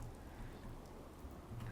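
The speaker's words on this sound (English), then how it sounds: "Cozy little thunder." Steady rain falls in the Fallout 4 video game, with soft rumbles of distant thunder beneath a continuous wash of drops, no one talking.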